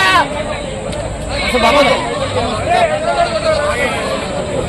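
Several goats bleat at the Rajarampalli weekly animal market, overlapping quavering calls rising and falling amid busy crowd babble and people talking.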